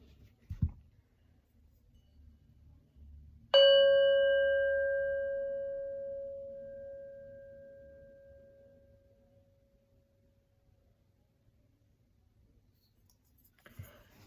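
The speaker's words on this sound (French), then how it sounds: "Je peux vous faire un petit coup de gong, tiens." A Tibetan singing bowl or small gong is struck once, giving a clear ringing tone that decays slowly over about eight seconds in an otherwise quiet room, with faint clicks before and after.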